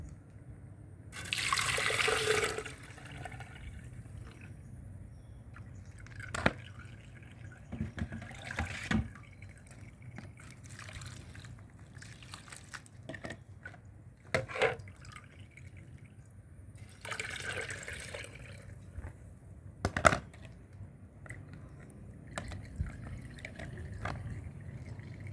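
Water drains and drips from chili seeds through a plastic coconut-milk strainer, with faint trickling, scattered drops and a few brief splashy pours, quiet and close.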